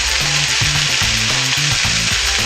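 Hunter's sausage sizzling loudly in a pan just after being flipped, a close, constant hiss and crackle with a low pulsing hum underneath.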